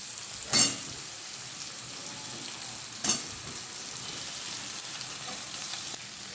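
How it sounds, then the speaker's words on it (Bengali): Eggplant pieces fry loudly in hot oil with black cumin, onion and green chilli for a light fish curry, a steady close sizzle broken by two sharp clatters of stirring. "বেগুনগুলো একটু ভাজা ভাজা করে নিচ্ছি"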